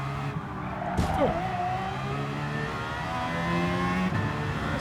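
A Porsche GT1 Strassenversion road car accelerates hard in Gran Turismo 7, its engine note climbing through the gears with a brief sweep and tire noise, close and loud from start to finish.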